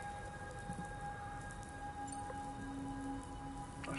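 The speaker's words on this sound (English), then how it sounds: "Why is it raining inside?" Rain falls steadily indoors inside a building in the Death Stranding 2 video game, a soft even patter with faint tonal hums in the background, no voices.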